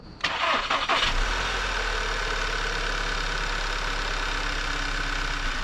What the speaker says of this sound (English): so we'll fire it up, let it run a second, and then check it again